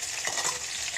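Whole garam masala spices (cinnamon bark, cardamom, cloves) and onion fry in oil for mutton kosha with jackfruit, a steady close hiss with light stirring scrapes, no voices.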